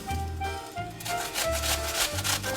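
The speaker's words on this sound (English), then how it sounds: "So now after grating one potato, you grate one onion." An onion is rubbed against a hand grater for potato latkes, giving rhythmic rasping strokes in quick repeated passes, close and moderately quiet, with a faint steady hum beneath and no talk.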